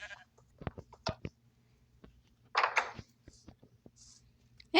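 Sheep in the block-building game Lokicraft give a short burst of bleating, set among soft clicks and taps from gameplay at low volume.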